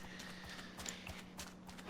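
Donkey hooves clip-clop in Minecraft, a faint, quick run of soft hoof taps over a low steady background hum.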